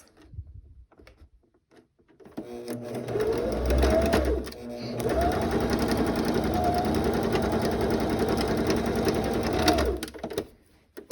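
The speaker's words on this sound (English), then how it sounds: "I'm going to sew that 1/4 inch into place" A sewing machine stitches a quarter-inch seam in denim fabric, running steadily and fairly loud for several seconds with a brief pause midway before the motor whirs on again and stops.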